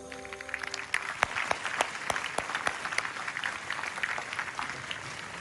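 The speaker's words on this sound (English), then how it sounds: "Let's have another round of applause for Nahdlatul Ulama and Muhammadiyah" Audience applause at the Zayed Award for Human Fraternity 2024 ceremony, a dense patter of many hands clapping steadily for several seconds, with a few sharp louder claps standing out.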